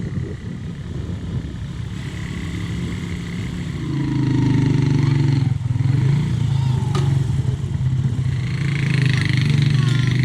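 A motorcycle engine drones steadily throughout, rising in intensity partway as the ride speeds up, with wind rush and faint voices underneath.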